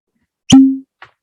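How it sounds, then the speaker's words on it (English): Cork pulled from a bottle of Barrel Seagrass bourbon: a single close, sharp pop with a brief ringing tail, followed a moment later by a faint small clink, otherwise quiet. "So cork pop."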